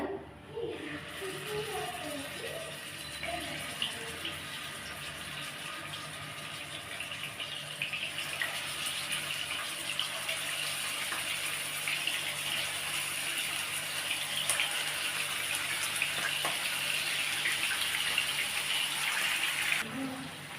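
Masala-marinated chicken pieces added one by one to hot oil: a continuous crackling sizzle that builds steadily louder, close, with someone speaking briefly at the start.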